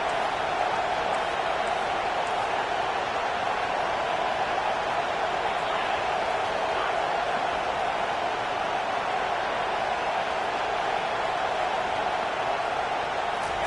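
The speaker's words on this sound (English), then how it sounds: "And the crowd coming to life here, trying to help this defense down in the red zone." Football stadium crowd roaring steadily as the defense holds in the red zone, a dense, continuous wash of cheering and noise with no break and no clear talk on top.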